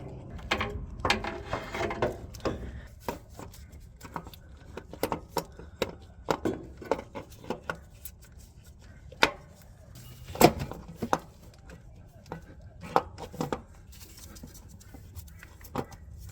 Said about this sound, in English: we're now going to be placing this starter back into where it's meant to go